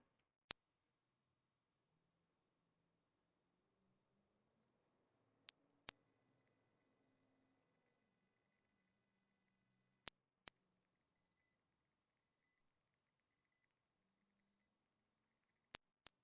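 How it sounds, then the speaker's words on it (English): Three steady, pure high-pitched test tones for a children's hearing game, each lasting a few seconds with short silent gaps between them. Each tone is pitched higher than the one before, and the last is very high and piercing. "Grown-ups have a difficult time hearing the higher pitched sounds"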